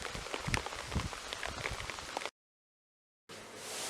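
Rain falling at a lake, dense pattering drops on surfaces, steady and close, breaking off into a second of silence before a softer rush resumes.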